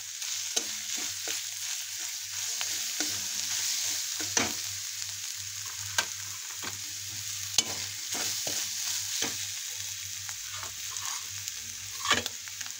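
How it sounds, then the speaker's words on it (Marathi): Spices, turmeric and salt stirred together in a pan, soft sizzling under intermittent scraping strokes of a spoon, close but fairly faint and steady. "सगळं एकत्र करून घ्यायचं।"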